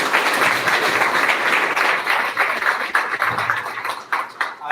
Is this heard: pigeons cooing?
no